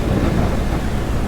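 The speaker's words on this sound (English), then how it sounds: "during a lightning storm." Thunder during a lightning storm over a hill at a mine, heard as a steady, dense rumble mixed with rain noise that fills the whole moment without a break.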